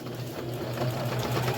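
A sewing machine stitches a baby blanket, its motor humming in short bursts with a fast rhythmic needle chatter, close and steady.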